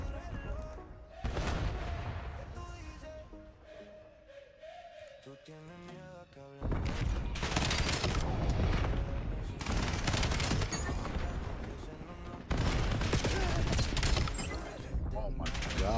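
Call of Duty video game gunfire comes in loud sustained bursts of rapid automatic shots, with a quieter stretch between them that carries musical tones and game effects.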